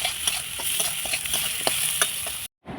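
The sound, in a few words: potatoes and onions frying in a pan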